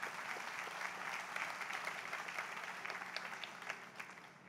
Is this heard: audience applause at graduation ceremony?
yes